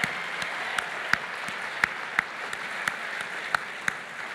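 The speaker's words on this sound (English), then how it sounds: "Let's give one more round of applause to all of our 2015 distinguished new educators." Thinning applause at a teacher-honoring ceremony in Santa Barbara for distinguished new educators: a soft wash of clapping punctuated by sharp, separate claps that ring out every half second or so.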